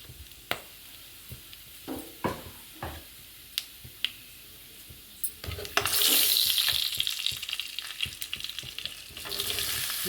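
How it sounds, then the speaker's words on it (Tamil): Cinnamon, cloves and fennel powder dropped into hot gingelly oil: first several sharp isolated clicks and taps, then a loud, close sizzle that swells and keeps crackling to the end. "ஊற்றிட்டு பட்டை கிராம்பு போட்டு தாளிச்சிக்கலாம்."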